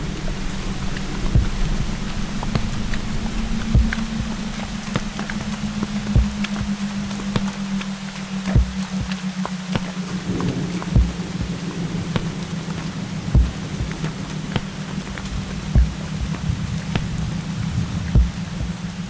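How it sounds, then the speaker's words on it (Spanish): Steady rain pours down, with dense patter and a low hum underneath, broken by recurring sharp thumps every second or two. "La lluvia y el barro no nos dejaban avanzar."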